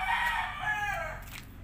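Chickens in the Philippines, freshly bathed to rid them of mites, call out faintly in a brief crowing, clucking vocalization, with soft background noise and no talking.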